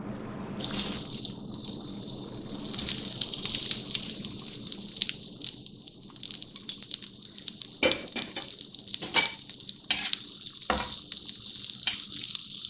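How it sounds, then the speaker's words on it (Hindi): Onions go into a quarter cup of hot oil in a kadhai for a Punjabi dhaba-style lauki sabzi, giving a steady hissing sizzle throughout with clinks of a utensil against the pan and a few sharper scraping bursts. "ये मैंने क्वार्टर कप इसमें ऑयल डाला है कढ़ाई में और अब इसमें प्याज डाल रही हूँ।"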